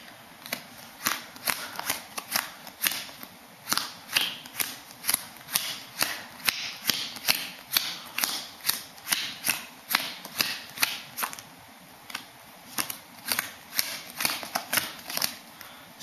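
Playing cards are dealt one by one onto several piles in a steady run of crisp, close slaps and flicks, about two per second with short pauses between.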